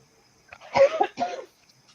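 A couple of short, rough coughs from a person with a cold, close to the microphone, one after another, with silence around them.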